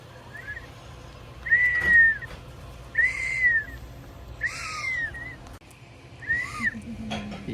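Repeated short rising whistles at a campsite in Crawford Bay, BC, about five separate toots spaced a second or so apart, fairly close and clear over a low background hum.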